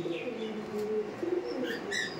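Pigeons at a racing pigeon market coo in low, soft repeated notes, with a few higher chirps near the end, all close and fairly quiet with no talking over them.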